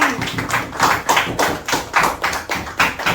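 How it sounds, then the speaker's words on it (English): Middle school art students clap together in a classroom for a visiting woodworker. A steady run of sharp, fairly loud claps lasts about three seconds and ends near the finish. "let's clap for Mr. King"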